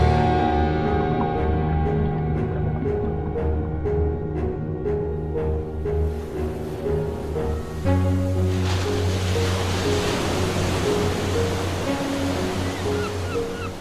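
Continuous ocean surf washes and rushes under layered music, the music dominant at first and the broad wave noise growing fuller in the second half.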